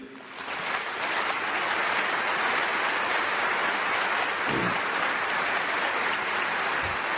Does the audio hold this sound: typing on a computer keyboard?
no